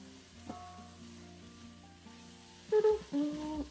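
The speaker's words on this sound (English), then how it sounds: "add that sausage right back in. Kind of give that a good mixy move." A sausage is stirred back into a sizzling pan: a low, steady sizzle runs throughout, and then loud scraping and stirring bursts arrive near the end, close and prominent.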